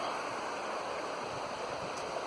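The rivers Laver and Skell flow together at their confluence in Ripon, a steady rushing wash of water filling the scene without pause.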